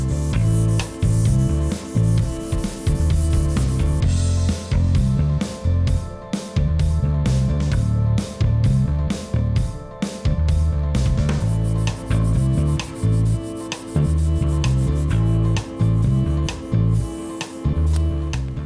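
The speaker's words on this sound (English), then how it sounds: "Just making sure it's spread nice and thinly on here." A pad rubs OSMO PolyX oil thinly across a wood surface in repeated close back-and-forth strokes, a rhythmic scuffing swish that continues for the whole stretch without speech.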